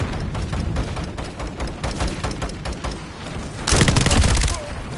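An artillery strike in Call of Duty Modern Warfare brings rapid bursts of gunfire and booming blasts, loud and close, with a heavier explosive surge near the end and game voices mixed in.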